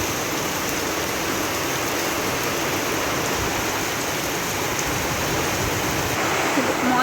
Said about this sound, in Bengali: এতটা বৃষ্টি হচ্ছে যা বলার বাইরে